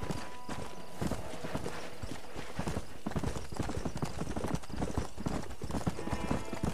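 Horse hooves gallop in a rapid, steady clip-clop rhythm across the whole stretch, loud and close, while riding in the video game Red Dead Redemption.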